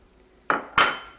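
Pumpkin pieces tip into a pot of Kerala sambar with two quick, close clattering knocks against the metal, a short pause between them, in an otherwise quiet kitchen.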